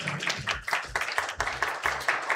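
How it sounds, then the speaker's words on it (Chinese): Scattered clapping from a church congregation during a youth worship service, a brief burst of uneven hand claps at moderate distance with no voices over it. "我们再次掌声"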